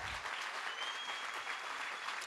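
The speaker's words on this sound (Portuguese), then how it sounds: "Palmas" Steady applause from an audience at a tribute event, dense and even throughout, moderately distant with no voices standing out.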